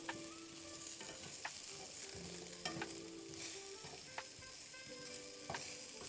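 Potatoes crisp up in a hot pan with a constant soft sizzle, broken by intermittent scrapes and taps of a utensil stirring them.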